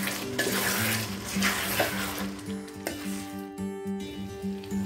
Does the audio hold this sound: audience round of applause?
no